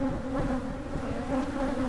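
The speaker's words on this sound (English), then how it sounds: "What kind of bees are these? Are they the nice normal bees?" A steady, dense hum of bees swarming around a hive, the drone low and continuous at moderate distance with no voices.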